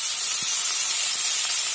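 Cubed potatoes hitting a hot pan of oil for a simple cauliflower curry, giving a steady, loud bright hiss with no talking.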